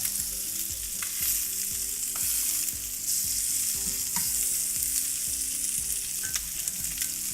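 Cajun cod fries in butter with a lively, close, continuous sizzle and crackle, plus light scraping of a utensil in the pan.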